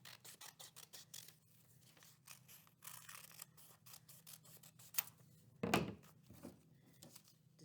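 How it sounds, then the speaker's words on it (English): Scissors snipping through paper to cut out a template, a quick close series of crisp cuts with a louder rustle and clunk near the end, no talk. "I'm going to cut this out. This is going to be our template."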